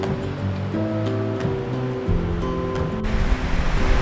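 Surf rolling in on Ahipara Beach at the start of Ninety Mile Beach in Northland, New Zealand, a steady wash of waves under sustained tonal music with no talking.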